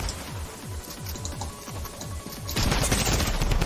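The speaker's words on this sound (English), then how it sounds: "That's a strong drum gun." A drum gun fires in Fortnite, a rapid, loud string of automatic gunshots pounding steadily, then building into a denser, heavier barrage near the end, no talking.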